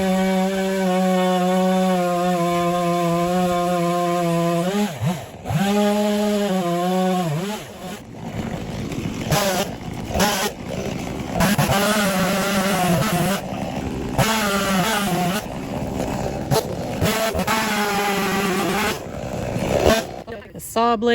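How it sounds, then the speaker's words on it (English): A chainsaw with a dull chain cuts into tree wood during tree trimming in Minnesota. The engine drones loud and steady, then dips and strains unevenly as it bites into the wood, with a few short breaks. "The saw blade is pretty dull, so it's not going through there like butter"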